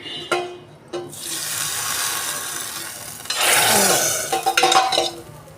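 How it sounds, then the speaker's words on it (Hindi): Hot oil crackles and sizzles loudly as a tempering of spices with a little asafoetida hits the pan for kadhi, with a couple of metallic clinks and a second, louder burst of sizzling later. "ये लग गया कड़ी में तड़का।"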